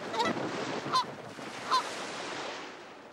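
Canada geese honk three times at a distance in spring, short nasal calls spaced evenly apart over a soft, steady background rush.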